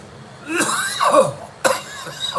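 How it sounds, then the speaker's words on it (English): A person coughs close by: two or three harsh, rough bursts in quick succession, followed after a short pause by another sharp cough. "that's just a regular cough."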